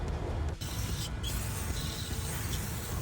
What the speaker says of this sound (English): just spray everything down with a little bit of brake cleaner